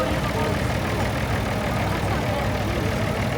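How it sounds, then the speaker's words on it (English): Diesel tractor engine running steadily at a steam and gas show parade, a continuous low rumbling idle close by with broadband noise and no clear pauses. "It's got the diesel engine."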